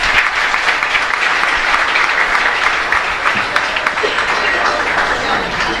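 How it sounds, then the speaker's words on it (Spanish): Congregation in a parish church during Mass gives a sustained round of applause, dense even clapping throughout with some voices mixed in. "Un aplauso para ellos."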